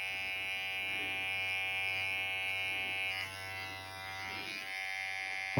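Electric hair clippers buzz steadily up close while cutting a taper fade on the sides of a head, the whine dipping briefly as the blades move through hair.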